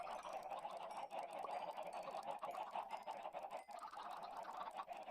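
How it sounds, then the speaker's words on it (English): A crowd of Minecraft chickens clucks continuously in a busy, overlapping chorus, fairly quiet but steady, with no talking over it. "It's hard to talk over all the clucking"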